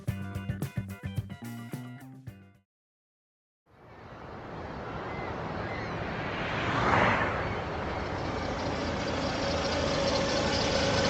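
An old car engine, one that has been spewing white smoke, runs with a rough, noisy, steady rumble that swells slightly midway, after a brief musical passage and a moment of silence.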